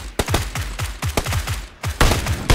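Bursts of gunfire in the battle royale game PlayerUnknown's Battlegrounds, sharp repeated shots in uneven volleys, loud and close, some spaced singly and some in quick runs.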